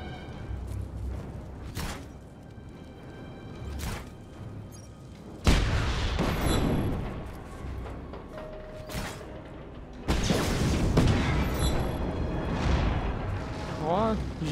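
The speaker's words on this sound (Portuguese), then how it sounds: "Caraca, mano, esse explosão tá muito foda esse jogo, velho." Large explosions in the action game Just Cause 3 boom out in two heavy bursts with rumbling debris and crackling, over a steady game background, with a person talking at times.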